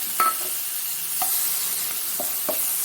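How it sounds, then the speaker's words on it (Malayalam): Tomatoes frying in a pan for tomato rice, a constant soft sizzle with a few sharp scrapes and taps of a stirring spoon at irregular intervals, close and without talk. "ഇതിലേക്ക് നമുക്ക് തക്കാളി ഇട്ട് കൊടുക്കാം."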